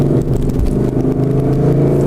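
A Ford Mustang builds speed on a highway, its engine droning in a steady, loud low rumble with strong harmonic bands that hold throughout, mixed with road and cabin noise.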